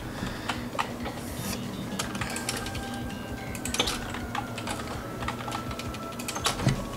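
Rapid, uneven keyboard typing clatters through the whole stretch, close and steady, with brief louder clicks scattered over a low hum and no talk.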